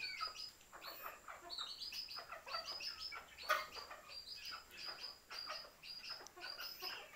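Chickens cluck and chirp steadily in the distance while feeding on leftover food in the morning, a busy flock of overlapping calls with no talking.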